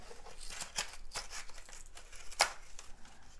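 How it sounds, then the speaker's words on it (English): Scissors snip plastic pieces of a Hasbro Resistance A-Wing Fighter toy off their frame: a few quiet, sharp cuts with one crisper snap near the end, against soft background rustling. "Snip these right down here."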